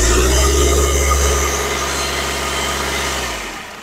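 A used car at a car dealership revs hard, its loud engine roaring near and close before easing down as the revs drop toward idle, heard alone without talk.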